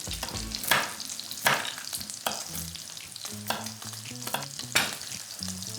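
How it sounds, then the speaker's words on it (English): A knife chops nuts on a cutting board for a spinach salad with hot bacon dressing. Sharp, close chops come at irregular intervals, with a faint tonal background underneath. "I'm gonna chop them up a little bit."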